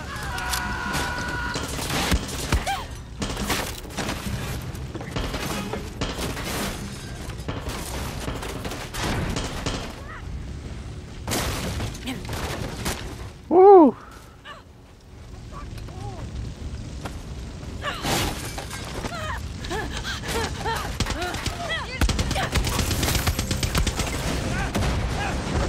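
Gunfire in the video game Far Cry 6: a continuous rattle of shots and bursts runs through the scene, with game characters' voices over it.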